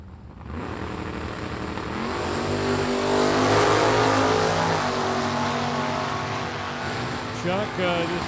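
Two drag racers, a Chevrolet Monte Carlo and a blue Mustang, launch side by side; engine roar builds and holds loud across the clip, with an announcer talking over it.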